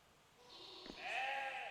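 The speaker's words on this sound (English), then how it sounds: "A goat?" A goat in the Vintage Story video game gives a single drawn-out, wavering bleat, clear and close with no talking.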